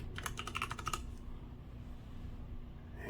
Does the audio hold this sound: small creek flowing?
no